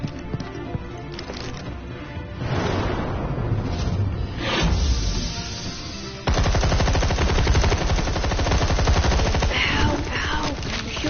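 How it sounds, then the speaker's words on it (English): Gunfire in the Batman Telltale Series video game: a loud, close flurry of shots with whooshes and booming swells. It builds into a dense, sustained machine-gun rattle during the last few seconds. "You're shooting me. Stop shooting me."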